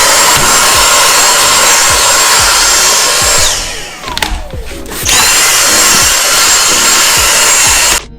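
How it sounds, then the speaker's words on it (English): A Dyson stick vacuum whirs loudly and steadily while sucking crumbs out of a Nuna Mixx Next pram, cutting out briefly midway before resuming and then shutting off near the end. "I'm just going to get my little Dyson stick and vacuum all the crummies out of there"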